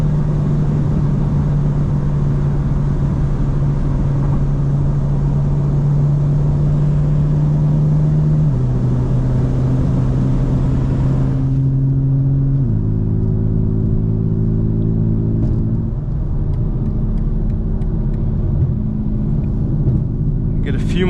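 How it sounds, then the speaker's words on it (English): A car engine pulls through early, quick upshifts in city traffic while still cold, its low steady drone stepping down in pitch at each gear change, loud and continuous close by. "I'm short shifting because, again, the car isn't too warmed up yet."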